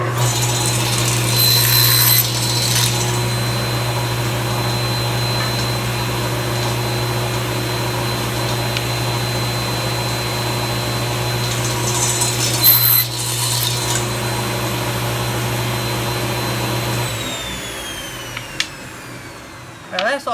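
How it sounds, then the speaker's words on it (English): Table saw with a sled cutting wood, a loud, steady motor whine held close for most of the stretch, with the blade load shifting briefly mid-cut before the saw spins down near the end. "with my table saw sled in place, I'm going to go ahead and make these 2 cuts along the marks that I made"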